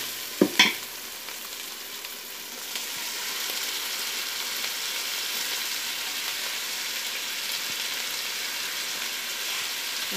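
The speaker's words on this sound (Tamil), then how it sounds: "ஆனால் ஒரே கிண்டிக்கிட்டே இருக்கணும்." Ginger and garlic sautéing in a pan for ghee rice give a close, even sizzle that runs steadily throughout, opening with a couple of sharp clanks of a spoon against the pan.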